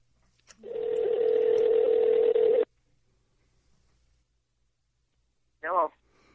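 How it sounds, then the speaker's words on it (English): A telephone number is dialed on a phone line: a long steady tone lasting about two seconds, then silence, and finally a brief warbling burst near the end, with no voices in between. "Excuse me, got a phone call to make here real quick."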